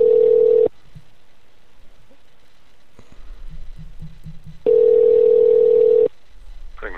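A steady telephone ringback or dial tone sounds loud and close, breaks off into a line hiss with a short series of rhythmic dialing pulses, then the tone returns for a second long stretch.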